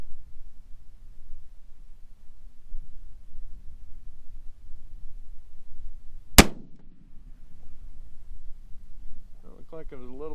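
A single sharp, loud .243 rifle shot from a T/C Compass firing PPU factory ammunition cracks out against a quiet outdoor background, followed by a brief decaying echo and a short burst of speech near the end.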